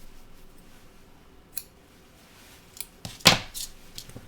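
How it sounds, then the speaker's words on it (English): Scissors snip off a small piece of dubbing brush at a fly-tying bench, a crisp cut standing out alone, preceded by a few faint, brief clicks and handling sounds. "Take off a little piece now, cut it off"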